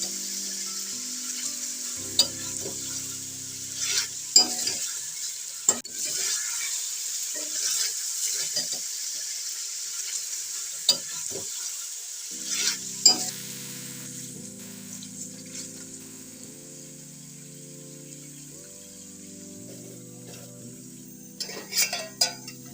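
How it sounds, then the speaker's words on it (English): Turmeric stirred into chicken curry frying in a pan: a steady high sizzle with scattered stirring clicks and scrapes, over a low tonal hum, continuous throughout. "First, add turmeric and stir well."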